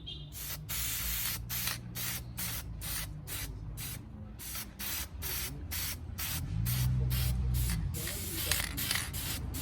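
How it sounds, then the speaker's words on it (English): A can of red aerosol spray paint hisses in a rapid series of short, evenly spaced bursts over car parts, close and fairly crisp, with a faint low hum underneath. "So I'm gonna spray everything in a red."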